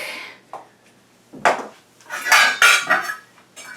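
Metal pot lids taken from kitchen cabinets clang and crash together like cymbals in several loud, bright bursts, the strongest hits coming in a quick cluster near the end, with no talking.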